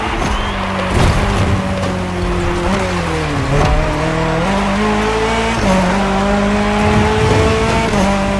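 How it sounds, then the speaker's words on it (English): Rally car engine revving and shifting through gears as it races onto dirt in The Crew Motorfest, with tire squeal and skidding, loud and continuous with rising and falling engine pitch. "The rally car has already changed its course to reach the dirt."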